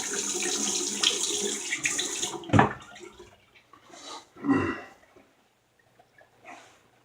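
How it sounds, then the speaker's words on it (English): Water runs from a tap for a couple of seconds and then stops, followed by a few short splashes and gurgles of rinsing. "Do a quick rinse off with cold water."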